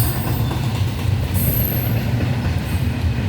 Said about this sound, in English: I think we got a train meet.